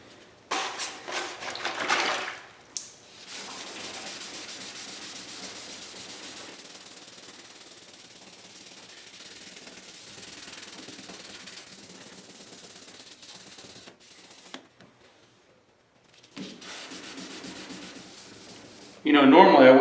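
Clear coat on a car panel hand-sanded with 1200 grit paper on a rigid block, steady close rubbing strokes with short pauses between passes, and a sharper louder burst at the end.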